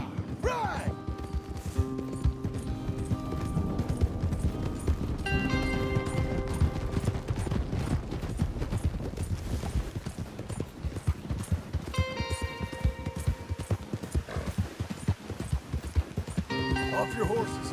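Many horses gallop with rapid, continuous hoofbeats in the video game Red Dead Redemption 2, loud and close, while music plays and occasional whinnies and voices come through.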